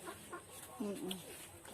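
A chicken clucks a few times up close, short throaty notes over a soft background hum.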